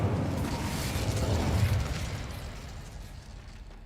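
The Incendio fire spell goes off in Hogwarts Legacy as a heavy, rumbling whoosh of flame that swells at first, then dies away over a few seconds. No one speaks over it.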